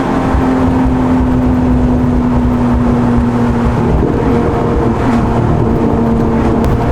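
A Porsche GT3 sports car engine drones loud and close, holding a steady, even tone throughout with a slight shift in pitch near the end, no voices.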